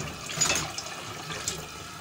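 Water from a tap swills briefly while something is rinsed out in a kitchen, a short splashy gush close by that tails off quickly.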